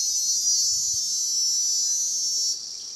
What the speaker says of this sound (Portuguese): aqui está infestado de cigarras, fazendo uma barulhada total